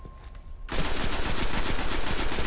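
Auto rifle fire in the shooter Destiny: after a short quiet lead-in, a rapid, steady stream of loud close gunshots bursts in and keeps going to the end, with no voices.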